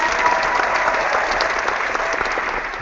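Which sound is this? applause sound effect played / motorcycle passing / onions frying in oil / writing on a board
applause sound effect played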